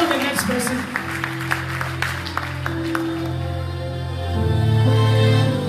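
A church congregation claps at a healing meeting: scattered, uneven hand claps over sustained music or organ tones that swell louder near the end, with voices faintly in the mix.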